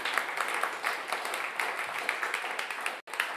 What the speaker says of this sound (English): how about one more round of applause for Stoll Vaughan